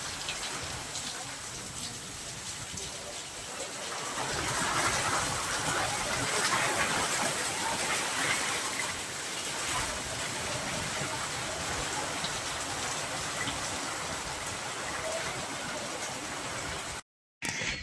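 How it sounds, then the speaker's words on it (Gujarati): Steady heavy rain beats down through a storm in summer, a dense continuous hiss that swells louder in the middle, then cuts briefly near the end. "જોરદાર વરસાદ અને વાવાઝોડું આવે છે."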